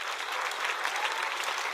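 Church congregation applauding together to acclaim the Lord, a steady dense wash of clapping hands from a crowd filling the room, even and sustained with no talk over it.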